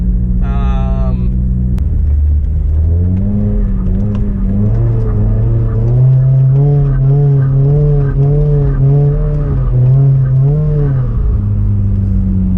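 A Hyundai Genesis Coupe drifting through corners, its engine droning loudly and continuously with pitch rising and falling through each turn, heard from inside the car, with a brief voice near the start.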